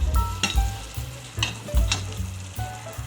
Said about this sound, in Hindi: यहाँ पर हमने सारे मसालों को अच्छी तरह से भून लिया है।